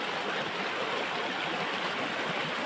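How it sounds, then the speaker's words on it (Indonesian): A fast-flowing wild river used for fishing rushes past in a dense, steady roar of churning water, close and continuous with no voices over it. "Airnya deras guys."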